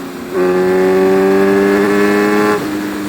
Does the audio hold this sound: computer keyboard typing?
no